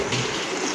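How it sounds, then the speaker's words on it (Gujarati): A household tap running at full flow, a steady, close, loud gush of water with no voices over it. "નળ ચાલુ કરી દે"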